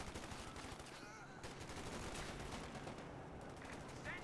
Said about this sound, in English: 50 cal's getting gunned down by a fellow machine gun.